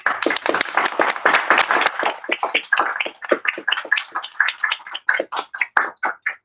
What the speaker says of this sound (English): we can give you a final round of applause.